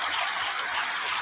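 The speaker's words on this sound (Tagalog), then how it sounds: "napakalakas ng agos" Strong river current swollen by heavy rain rushes in a steady, broad hiss of flowing water, close and continuous with no talk over it.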